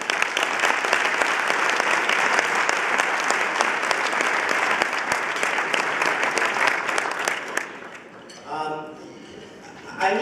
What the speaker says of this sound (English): So one more round of applause for everyone.